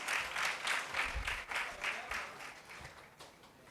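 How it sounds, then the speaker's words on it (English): An audience at a youth climate changemakers panel applauds as the young participants come on stage; the clapping is fairly faint and distant, pulsing in soft rhythmic waves over a low room rumble. "please give a huge round of applause for all of them"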